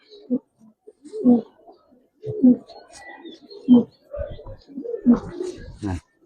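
Repeated low coos of a Giribaz pigeon in a steady rhythm, about five bursts close by, with some faint chirps and rustling between them.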